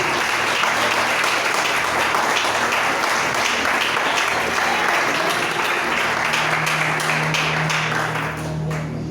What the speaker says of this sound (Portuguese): Vamos aplaudir ao Senhor mais uma vez bem forte